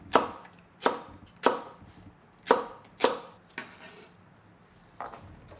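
A knife chopping carrot and green chili pepper on a cutting board: sharp, separate thunks in an uneven rhythm, about eight strikes, close and clear with no talk.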